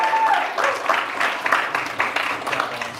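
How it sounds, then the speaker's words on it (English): A crowd at a sales-speaking event in Los Angeles applauds the volunteers, a moderate wash of clapping lasting about three seconds. "Can you give all of the volunteers a big round of applause?"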